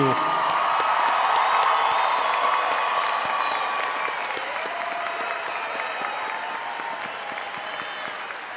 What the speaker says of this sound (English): Please join me in giving a huge round of applause to the UNT class of 2022.